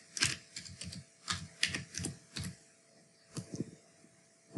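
Typing on a computer keyboard, close and fairly quiet, with short bursts of crisp key clacks separated by brief pauses.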